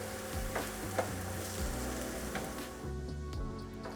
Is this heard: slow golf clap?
no